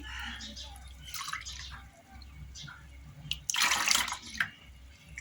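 Milk pours and splashes into semolina for Pakistani makhandi halwa, a wet gurgling stream that swells loudest midway, while a person talks over parts of it.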